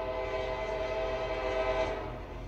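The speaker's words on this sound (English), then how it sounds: "y'all hear that train? Hold on, let's let it go by for a second." A train passes close outside a window, a loud steady rumble with a sustained horn-like tonal drone that holds throughout before easing slightly at the end, no talk over it.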